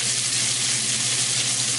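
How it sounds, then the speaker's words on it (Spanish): Bacon, or pancetta, browning in a frying pan while cooking coq au vin gives a steady, close hiss of sizzling fat with no break, heard alone. "estamos dorando el tocino o panceta"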